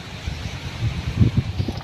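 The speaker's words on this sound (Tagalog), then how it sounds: "napakalakas na ng hangin mga kabraso maalon maalon sa labas" Steady gusting wind by the choppy sea buffets the microphone, a continuous low roar with rumbling surges and no voices.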